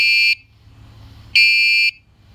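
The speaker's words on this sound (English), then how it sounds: "You got your alarm or your horn." The alarm or horn on a Letric eBike XP gives two loud, shrill electronic beeps, each about a third of a second long and about a second apart, close up with no talking.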